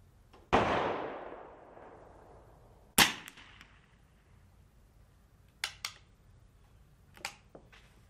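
Gunshots at an outdoor shooting range: two loud booming reports with long echoing decay, followed by several fainter, sharper distant cracks, all without talk.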